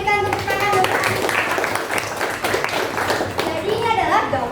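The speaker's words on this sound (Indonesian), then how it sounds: "Kita berikan tepuk tangan untuk Anissa" Children in a classroom clap together in a steady burst, with young voices and chatter mixed in throughout.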